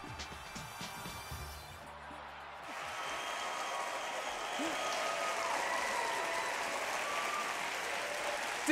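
Audience applause at the InVenture Prize invention competition at Georgia Tech in 2012 swells into a loud, steady wash of clapping after a brief stretch of voices and tones, then holds at full strength to the end.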